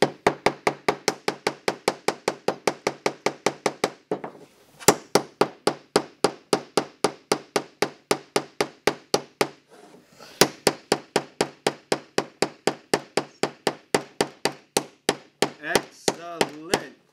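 A hammer drives tacks into a wooden pirate ship in long runs of sharp, rapid, evenly spaced close-up taps, with two brief pauses and a voice near the end.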